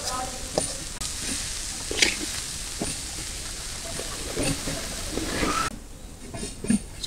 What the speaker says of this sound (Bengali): এই তেলের কড়াইতে দিল শাক ভাজা তো যেহেতু ভাজবে ওই জন্য তেলের কড়াইতে দিল